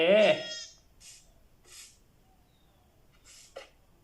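A Minecraft sheep bleats loudly once at the start, followed by a few faint, brief game sounds spread across the rest of the moment.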